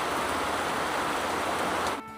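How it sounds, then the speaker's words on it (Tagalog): Heavy rain pouring during a typhoon-level storm, a dense, loud, steady hiss of falling water that cuts off abruptly near the end. "Hindi na talaga kami tinigilan ng ulan dito."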